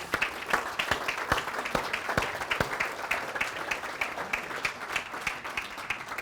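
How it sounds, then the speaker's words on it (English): A conference audience at the UK National Parks Conference claps steadily for a panel, a dense, even round of applause from a medium-sized crowd lasting several seconds. "who I think deserve another round of applause."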